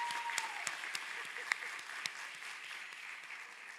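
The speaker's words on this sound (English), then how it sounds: "Please join me in giving our amazing student ambassadors another round of applause." An audience at a physician assistant class end-of-program ceremony applauds student ambassadors, a steady wash of clapping from a sizable crowd with a few sharper claps standing out, sustained at even loudness.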